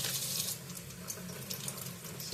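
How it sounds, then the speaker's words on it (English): Tap water runs steadily into a sink while cauliflower is washed, a continuous close splashing rush with small bursts and no talking. "Always want to do a good wash on your vegetables"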